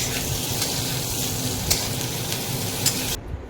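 Pointed gourd pieces frying in a pan, a steady close crackling sizzle with faint stirring scrapes that runs without pause and cuts off abruptly near the end.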